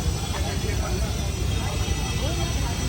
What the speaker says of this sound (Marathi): भाऊ आपला हा ड्रोन चालला